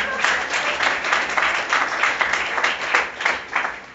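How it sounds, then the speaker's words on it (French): A church congregation at a Saint Joseph solemnity Mass applauds steadily, a dense patter of many hands clapping at moderate loudness for a few seconds. "Applaudissez pour vous-même."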